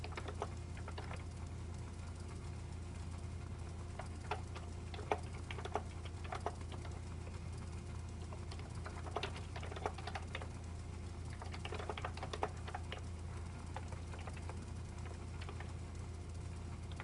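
Typing on a computer keyboard comes as irregular bursts of light clicking keystrokes with pauses between, soft and close over a steady low hum, with no talking.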